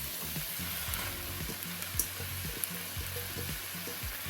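Marinated chicken hits a hot pan of spinach curry base with a steady close sizzle and frying hiss, broken by a few soft thuds and scrapes as the pieces land and settle.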